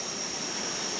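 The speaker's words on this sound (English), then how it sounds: "you can probably hear my creek running in the background" A creek running outdoors after a morning of heavy rain gives a steady, broad rushing wash of water, constant and even throughout, with no voices.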